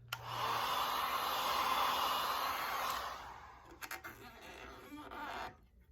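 Heat gun blows hot air onto VIVID carbon fiber vinyl wrap on toolbox drawer tops, a loud steady whooshing roar for about three seconds, then fainter rustling, tapping and a brief return of airflow before stopping.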